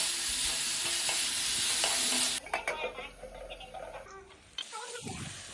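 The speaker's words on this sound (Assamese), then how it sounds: "মিহি মিহিকৈ কাটি থোৱা পালেং কেইডাল দি আৰু অলপ ভাজি ল'লোঁ।" Finely chopped spinach frying with potatoes and tomatoes in a kadai, a loud continuous sizzle that drops away after a couple of seconds into softer stirring and pan clinks.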